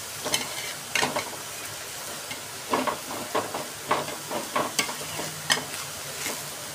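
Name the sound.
thalipith frying in oil on a pan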